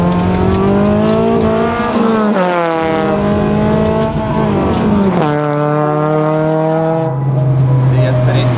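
Mini fitted with a swapped Honda VTEC engine screaming past at high revs, loud and close, its engine pitch climbing through several gear changes before dropping as it passes, with excited voices over the top.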